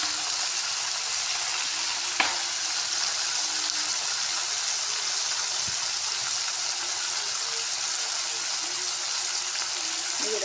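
Onion and flattened rice (kanda poha) frying in a pan, a continuous bright sizzle heard up close with an occasional faint clink, steady throughout.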